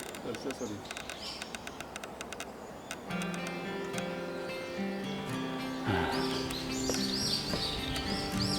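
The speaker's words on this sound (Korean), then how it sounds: "새소리만." Birds chirp and sing through a cypress forest near Geoncheon-eup, Gyeongju, with busy high calls spread across the clip, while people talk nearby.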